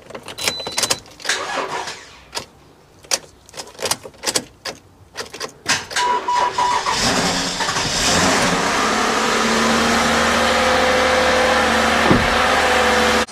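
A car engine starts up and runs steadily inside a garage after several clunks and knocks, settling into a loud, continuous drone with a brief rev near the end.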